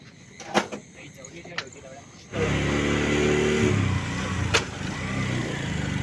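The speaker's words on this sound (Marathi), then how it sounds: "रिक्षा निघले" An auto rickshaw engine starts up and revs loudly as it pulls away, a steady close-up drone after a quieter stretch with a few knocks and clicks, while people talk nearby.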